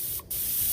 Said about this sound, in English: And I'm going to close the valve a bit so that the spray that comes out isn't super powerful.